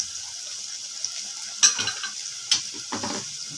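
Gongura curry frying in a pan just after turmeric is added, a faint steady sizzle under a few sharp spoon-on-pan scrapes and clinks from stirring.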